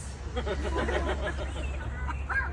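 Several people make squawking, cawing calls with their voices, mimicking gulls in a continuous chorus over a steady low rumble.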